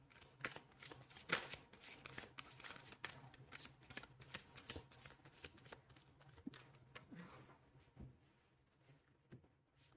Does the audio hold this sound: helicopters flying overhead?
no